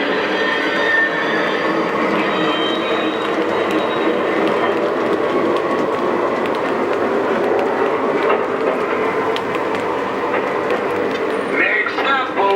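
A model Southern passenger diner car from the 1940s-era train plays its sound effects: a steady rolling rumble with clicking wheel noise and rattles throughout, loud and continuous, with a brief squeal near the end.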